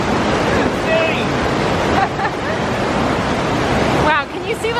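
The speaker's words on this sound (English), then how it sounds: "Usually you can walk right across here, but it's just a waterfall now." Rushing mountain waterfall pouring over a flooded crossing near Asheville roars as a loud, continuous wash of water, with people talking over it throughout.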